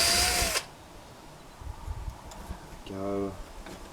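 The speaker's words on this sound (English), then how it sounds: "I'll just drill a hole in the leather." Power drill boring a hole through leather for a medieval gauntlet repair: a short whirring burst with a steady tonal buzz, heard after a brief loud noise at the start and over quiet room hiss.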